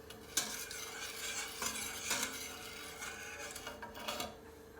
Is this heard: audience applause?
no